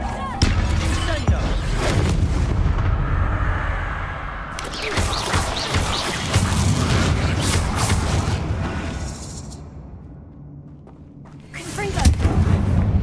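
Confringo blasting spells exploding in the Hogwarts Legacy video game, a series of loud booming blasts and crashing impacts with a brief lull before another burst, with voices heard over the action.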